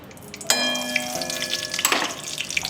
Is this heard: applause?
no